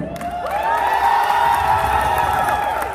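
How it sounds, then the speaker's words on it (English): A large crowd at an annual dinner event cheers and shouts together, a loud, sustained roar of voices that swells and holds. "A, let me hear your cheers!"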